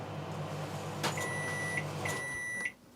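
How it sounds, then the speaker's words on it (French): A microwave oven hums steadily, then gives two long electronic beeps about a second apart, and the running stops abruptly near the end. No one talks over it. "Deux minutes au micro-ondes"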